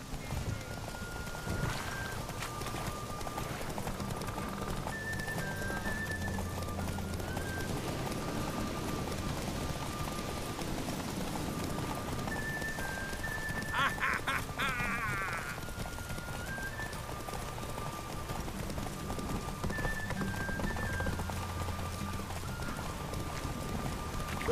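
Horses gallop in a race in the video game The Witcher 3, a steady rhythmic clip-clop of hooves with occasional whinnies over continuous game ambience, with voices talking throughout.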